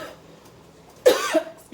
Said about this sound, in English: the fumes from this crab boil is making me cough